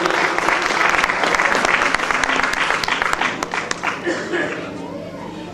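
Loud, dense applause from an audience at an awards ceremony, steady for several seconds before thinning slightly toward the end, with a few voices mixed into the crowd noise.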